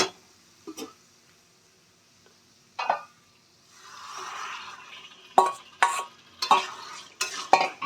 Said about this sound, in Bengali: মাংসটা আমি ভালো করে মিশিয়ে নেব